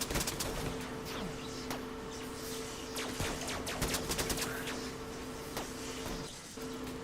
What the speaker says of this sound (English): Just keep firing. Do not let up with the firing here.